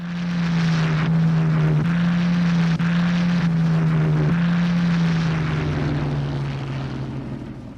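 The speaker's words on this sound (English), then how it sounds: "Every available American fighter was scrambled into the air to intercept successive waves of Japanese carrier-based planes." WWII American fighter planes' propeller engines droning loud and steady as the fighters scramble to meet Japanese carrier-based planes over the Pacific, a deep continuous hum with slight pitch shifts that fades a little at the end.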